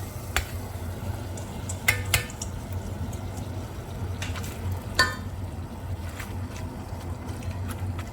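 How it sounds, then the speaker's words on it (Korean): Beef and seaweed stir-fry together in a pot, with soft sizzling and a few sharp clinks and scrapes of a utensil against the pot spaced through the stretch. "고기가 어느 정도 노릇노릇 익으면 미역을 넣고 같이 볶아 주실게요"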